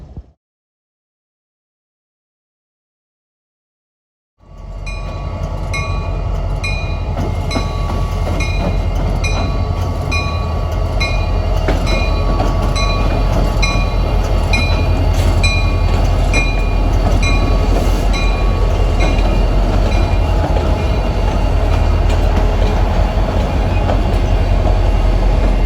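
After a few seconds of silence, Norfolk Southern SD40E locomotives, rebuilt former Conrail SD50s, switching the yard rumble in close and loud, with a steady diesel drone, squealing wheel tones and clanking cars building to a continuous roar.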